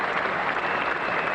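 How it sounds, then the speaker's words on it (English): Steady, dense applause from a very large crowd at Lord's cricket ground during a 1984 England versus West Indies Test match, a continuous clapping wash at even loudness throughout. "it's produced applause from both of them"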